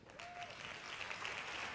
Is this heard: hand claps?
yes